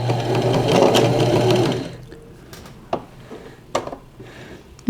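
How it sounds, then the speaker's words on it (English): A sewing machine running with improper threading whirs loudly and steadily for about two seconds, then stops. A few sharp clicks and knocks follow in the quiet that comes after. "Sewing machine, why you do this to me?"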